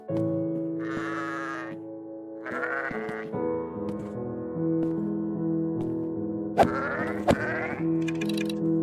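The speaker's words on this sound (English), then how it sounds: "Wait a minute, is that a sheep?" A sheep in the Minecraft video game bleats several times in short, nasal bursts over a soft, sustained musical background, with no one speaking.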